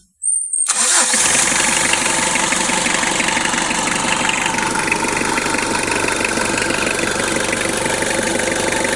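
A Mitsubishi Adventure's 4D56 diesel engine with a low-power fault cranks and starts, then runs steadily and loudly up close with a continuous clattering idle throughout.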